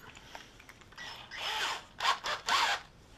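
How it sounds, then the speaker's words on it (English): A Dremel rotary tool cleaning up a corner while upgrading a Flyzone Sensei motor, heard up close as a few short grinding buzzes in quick succession, the longest about half a second. "I'll probably get the Dremel and just clean that corner up here"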